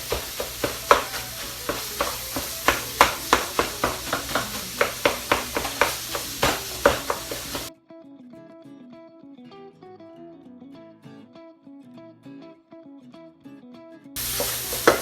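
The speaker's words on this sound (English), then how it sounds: "this is the best thing for breaking up that sausage and hamburger meat" Sausage and hamburger meat sizzle loudly in a pan while a utensil breaks them up with steady, rhythmic scraping and stirring strokes. Soft music then takes over before the sizzling returns briefly at the end.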